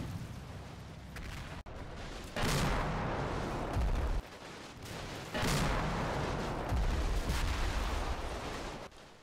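Pack howitzer artillery in the Combat Mission Normandy war game, heavy booming blasts with long rolling echoes arriving in separate loud bursts, some overlapping, with no talking.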